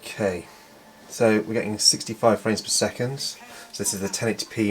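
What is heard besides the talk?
None of the usual background noises is heard.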